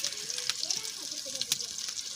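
Chicken pieces frying in hot oil in a home kitchen, giving a steady broadband sizzle with a few sharper crackles and pops, while a voice speaks faintly underneath.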